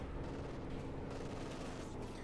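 Battle sounds in Company of Heroes 2, with a StuG assault gun and Tiger tank firing cannons amid gunfire, a dense continuous rumble of shots, fairly faint and steady.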